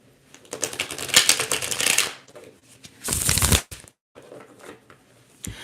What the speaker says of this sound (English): So I will shuffle the cards and get rambling as well.